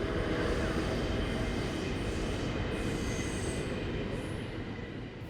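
A train rolls past outdoors with a loud, dense wash of wheel and rail noise, thin high squealing tones from braking drifting above the rumble as it slowly fades.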